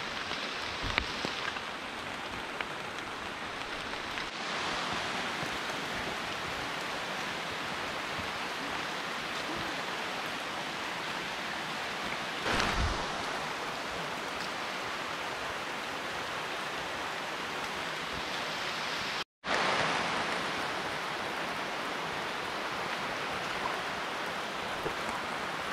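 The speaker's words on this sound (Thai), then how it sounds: "ตอนนี้ฝนตกมากตกหนักยิ่งกว่าเดิม" Heavy rain pours through the forest on a hiking trail at Phu Soi Dao in Thailand, a dense, constant roar of water close around the listener with a few brief bumps and one abrupt cut, and no talking.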